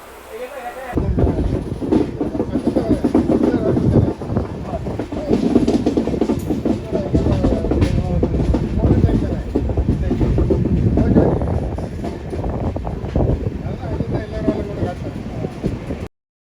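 A long train rumbles steadily along the tracks on a rail journey toward Nepal, close and loud, with a continuous rolling roar and wind buffeting throughout.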